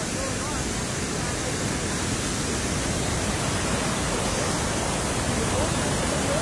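Rushing mountain stream water at Suối Vàng on Tà Lơn mountain, a loud, steady broadband roar of flowing water that fills the scene continuously, close by, with no talk over it.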